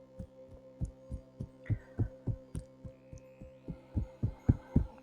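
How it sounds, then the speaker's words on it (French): Fingertips tap lightly on the collarbones during a lymphatic massage, a steady run of soft, close thumps at a quick even pace over a faint continuous hum. "On va simplement faire des petits tapotements du bout des doigts sur les zones de ganglions lymphatiques."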